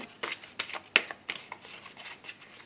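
Tarot cards being shuffled for a reading, a quick series of crisp riffling bursts, close and fairly quiet, without talk.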